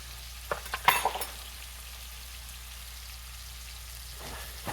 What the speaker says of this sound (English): I'm just chopping my hamburger up as it's cooking.